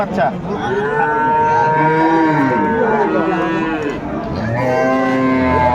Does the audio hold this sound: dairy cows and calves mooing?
yes